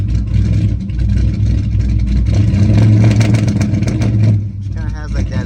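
A car named Blacklyn revs hard on a dyno with its check engine light on, a loud, sustained engine roar that holds steady before dropping off near the end, with a suspected lean pop somewhere in the run and voices talking over it.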